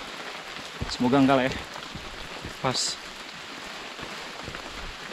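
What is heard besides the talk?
light rain falling during mountain hike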